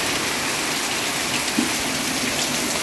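A heavy downpour falls steadily at a house where a bedroom is about to be built, a constant broad wash of rain drumming on surfaces, close and unbroken throughout.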